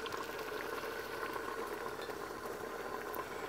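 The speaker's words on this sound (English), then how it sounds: "now that this is back to a boil, we're going to mix in our Pomona's pectin and stevia slowly." A pot of fruit preserve mixture at a boil gives a steady, dense bubbling and churning, close and even throughout, with no talk.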